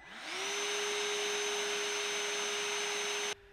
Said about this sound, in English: we're gonna fire up the shop vac